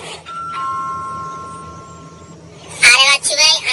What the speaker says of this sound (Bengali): কলিং বেল টিপি।